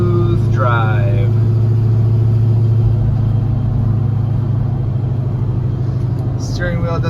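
A 1970 Chevrolet 1-1/2 ton pickup truck drives down a street, its engine producing a steady, close, low rumbling drone that holds continuously as it accelerates.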